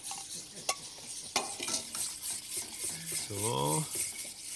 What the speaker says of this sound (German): Und jetzt rühren.